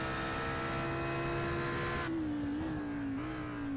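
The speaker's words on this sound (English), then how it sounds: "Listen to the revs spiking as the wheels spin up as he touches the grass." A race car engine at Zolder drones steadily at high pitch, then the revs jump sharply upward and waver as the wheels spin on grass, loud and close, with no voices.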